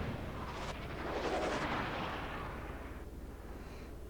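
Heavy battleship main-gun fire in the World of Warships naval game: a loud, sustained, booming roar that swells and then trails into a rumbling decay, with no talking.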